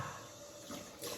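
Cold water running steadily from a bathroom tap during wet shaving with a safety razor, a close, continuous hiss that swells slightly near the end.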